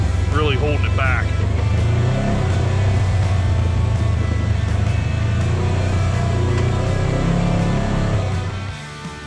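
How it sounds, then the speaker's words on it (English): A 2025 Polaris RZR Trail engine-brakes while rolling downhill, a steady low droning hum held close and continuous, with a voice briefly heard early on before the engine fades at the end. "You can really hear the engine brake trying to stop the machine while it rolls down the hill, really holding it back."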